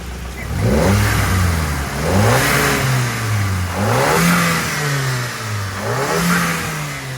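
A Mk5 VW Golf GTI with 332,000 km revs repeatedly, climbing and dropping in pitch about four times, loud and close with a throaty exhaust note.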